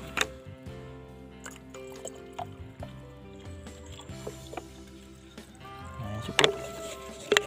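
Water is poured and splashed into a milky fertilizer solution for Musang King durian trees, with irregular close pouring, dripping and clinking container sounds.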